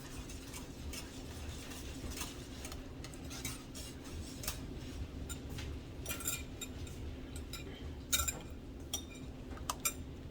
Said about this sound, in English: you pour this back in here, slowly in a steady stream, whisking the whole time